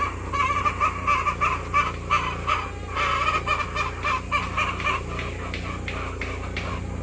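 Chicks raised on a farm peep repeatedly in quick bursts, a busy high chattering that rises and falls in clusters over a low background hum.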